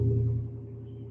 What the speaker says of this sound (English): I'm hearing a loud car outside my window